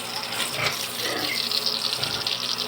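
Water sprays hard from a power spray pump hose while pets are bathed, a steady loud hiss and splash of water with small surges along the way.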